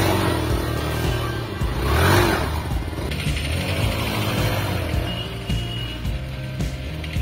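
A motorcycle engine revs hard during a drift, a loud rough roar that swells around the second second and then holds at a steady buzzing level, with no talking.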